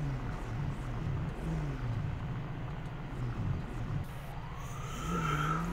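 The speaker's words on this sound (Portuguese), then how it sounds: "Nossa, eu tô ouvindo a sirene." Police siren in the GTA 5 video game, a wailing tone that rises and falls, heard faintly over a steady rumble of engine noise and a wash of background traffic.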